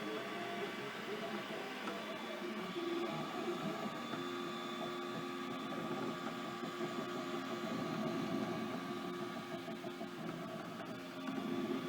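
An Ultimaker 3D printer runs close by with a steady mechanical whir and hum, soft stepper-motor tones shifting in pitch as it works, while someone talks quietly over it.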